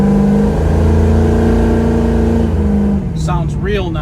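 A 1968 Camaro RS SS V8 idles steadily up close with a deep, even rumble, and a voice speaks over it near the end.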